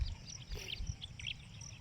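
Morning birds chirp faintly near a river, with a few short high tweets scattered over a low murmur of flowing water, quiet and somewhat distant.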